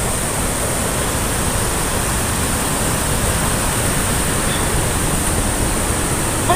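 Flash flood water at the Katen river rushing and draining into the ground, a loud, dense, unbroken roar of turbulent water that stays steady from start to finish.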